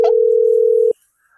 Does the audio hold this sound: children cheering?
no